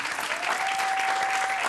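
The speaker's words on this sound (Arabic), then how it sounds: "تفضل صفقوا،" An audience applauds on a television quiz show, a dense, steady clapping from a crowd that fills the short stretch, with a faint steady tone running underneath.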